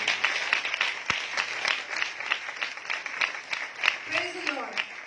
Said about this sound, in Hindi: यीशु मसीह के जलाल के लिए जोरदार तालियां बजाएं।